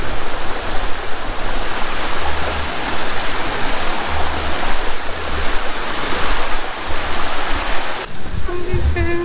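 Water in a stream on a farm rushes steadily and loudly, a close, continuous broadband roar. Faint voices and a brief clatter appear near the end.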